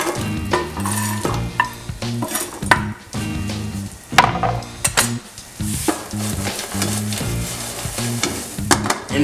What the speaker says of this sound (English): Into the hot frying pan with a little bit of butter.